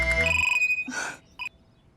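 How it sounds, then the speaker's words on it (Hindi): An electronic phone ringtone plays a bright melodic tone that stops after about a second, followed by a short electronic chirp, with no voices over it. "गरिमा जी, आप तो मेरा फोन ही ना उठा रही ना"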